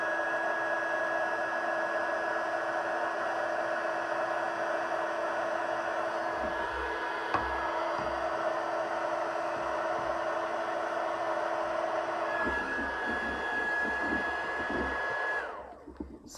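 Steady whooshing blast of an embossing heat tool melting embossing powder on a stamped card, running loud and unbroken for about fifteen seconds before cutting off abruptly.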